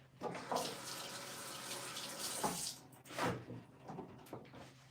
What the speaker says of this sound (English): So I'm gonna rinse my hands really quick.